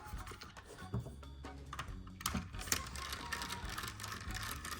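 Screws are being taken out of a tiny HPA airsoft light machine gun, with quiet, irregular clicks, ratcheting ticks and small metallic rattles close by.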